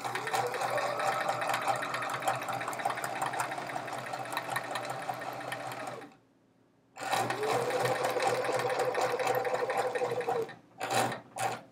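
A sewing machine stitches chevron rows on a quilt, running steadily and loudly for about six seconds, stopping briefly, then resuming in a long run before ending in a few short bursts.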